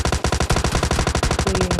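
Rapid automatic gunfire in the PUBG Mobile battle royale game, a loud, dense stream of about thirty evenly spaced shots lasting under two seconds, heard alone.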